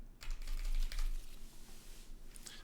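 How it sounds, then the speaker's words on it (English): Cards of a Mage Knight deck shuffled by hand, a quick burst of soft papery riffling and flicking up close, with a brief light tap near the end. "And then I'm going to shuffle my deck."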